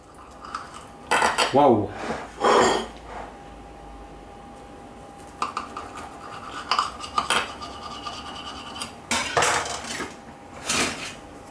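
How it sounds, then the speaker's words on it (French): A knife cutting a slice from a potato tortilla and lifting it off a plate, with a few close clinks and scrapes of metal on dishware and a brief exclamation from a voice. "je vais couper une part pour la dégustation"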